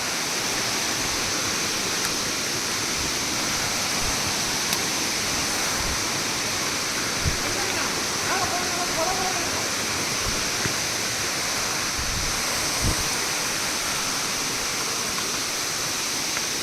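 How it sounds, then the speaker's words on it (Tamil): Broad, steady roar of a waterfall with lots of rushing water, constant and loud throughout with a few faint knocks and distant voices barely showing underneath. "பாருங்கள் தண்ணி நிறையா போகுது."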